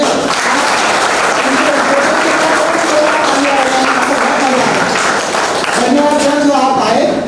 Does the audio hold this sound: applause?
yes